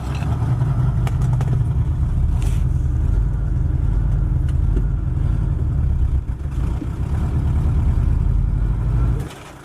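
An old Ford Galaxie with transmission fluid running low drives slowly, its engine running in a steady low rumble close by that eases off right at the end.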